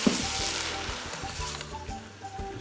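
Whole spices, tamarind and leaves hit hot oil for a beef pulao and erupt into a loud sizzle that fades slightly over a couple of seconds, with light stirring taps.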